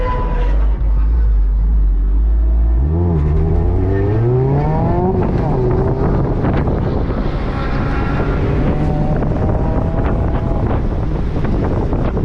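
A race car engine revs and shifts at an autocross event, pitch climbing and dropping through gear changes under heavy wind buffeting on the microphone, loud and close.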